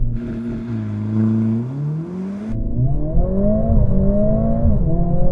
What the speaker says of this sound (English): put the car into race mode, left foot on the brake, floor the throttle. Here we go.